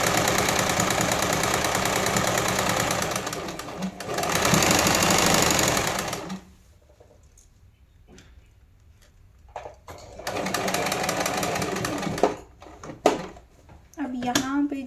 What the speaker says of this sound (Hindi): ऊपर की तरफ भी सिलाई करेंगे।